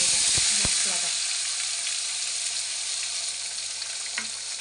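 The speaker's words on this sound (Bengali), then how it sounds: "এখন আমি তেলের উপরে দিয়ে দেবো মশলাটা" A ground spice paste of onion, ginger, garlic, salt and turmeric hits hot oil for a fish curry, starting with a few knocks and splashes, then settling into a loud, dense, steady sizzle up close.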